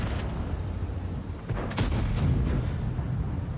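A tank gun fires in World of Tanks, one deep booming shot amid a rumbling battle background, near and strong.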